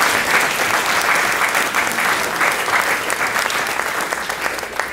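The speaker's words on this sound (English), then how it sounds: "So just give a round of applause for the Academy of Finance." Graduation audience for the Academy of Finance in 2018 gives sustained, even applause, a dense crowd of hands clapping steadily and fairly loudly throughout, easing slightly at the close.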